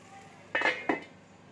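Two quick metallic clanks ring out as a lid is set onto a pan of garlic bread with melting cheese, close and clear against a quiet kitchen background.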